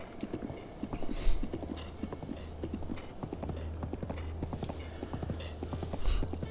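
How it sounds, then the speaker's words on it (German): In The Legend of Zelda: Breath of the Wild, a wild horse's hooves clip-clop in a quick, steady rhythm, fairly quiet. A brief whinny rises now and then and no one speaks. "Ein Wildpferd gefangen zu haben."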